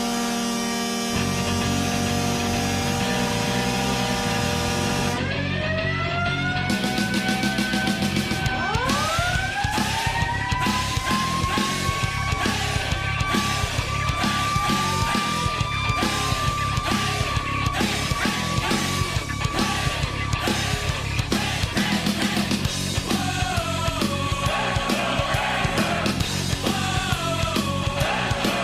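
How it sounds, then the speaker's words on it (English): A loud goal celebration at a hockey arena, Kitchener Rangers at the Memorial Auditorium, blares with a wailing, rising siren-like horn over dense crowd noise and clattering, sustained and chaotic for nearly half a minute. "is the sound you hear when the Kitchener Rangers score a goal at the Memorial"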